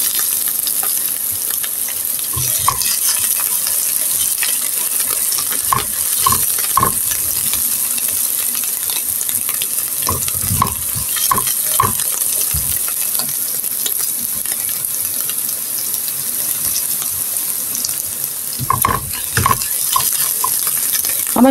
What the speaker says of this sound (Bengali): এই তো আমি পেঁয়াজ রসুনগুলো আমার ভাজা হয়ে গেছে